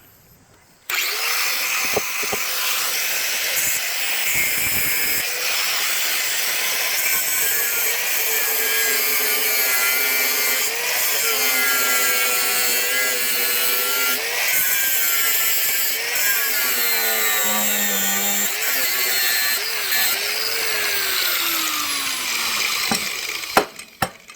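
A power grinder cuts into part of a car gear shifter with a loud, continuous, close whine that changes pitch as pressure shifts, then stops abruptly near the end.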